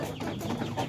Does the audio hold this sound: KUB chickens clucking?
yes